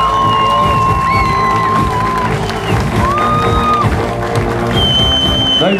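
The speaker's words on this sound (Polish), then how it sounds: "jeszcze raz wielkie brawa dla brązowych medalistów sezonu" Crowd in a sports hall applauding and cheering the season's bronze medalists, Stal Mielec, with steady clapping, whoops and a loudspeaker voice talking over the noise.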